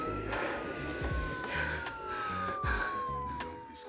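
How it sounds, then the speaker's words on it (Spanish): A police siren wails faintly in the background, its pitch sweeping slowly, partly masked by low rumbling noise and clattering sounds. "empiezan a oír el sonido de las sirenas de la policía"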